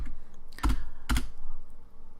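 Two crisp bursts of keystrokes on a computer keyboard while entering Python code for a regression model, loud and close over a steady low hum, with no talking.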